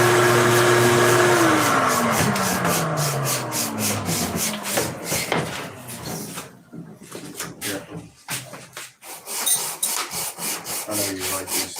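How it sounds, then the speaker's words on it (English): A canopy plug for a model airplane mold is sanded by hand, loud rhythmic rasping strokes in steady rapid succession, following a machine whir that winds down at the start. "he's gonna sand the plug"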